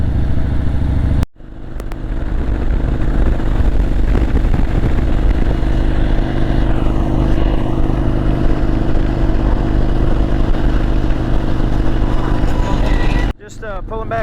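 Harley-Davidson Low Rider S motorcycle cruising along a road, a loud continuous engine rumble with wind roar that holds steady for most of the stretch, cut off abruptly at the start and end.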